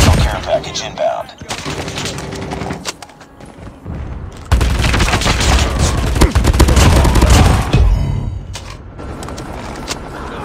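Bursts of gunfire and explosions from the video game Call of Duty Mobile played on an iPad Pro M1, loud and dense with rapid automatic fire, a pause, then a heavier sustained barrage.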